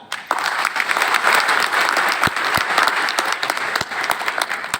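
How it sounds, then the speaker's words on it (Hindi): Loud audience applause during a motivational business speech, a crowd breaking into dense, sustained clapping that swells quickly and holds strong, with sharp individual claps cutting through. "ठोको जोरदार ताली"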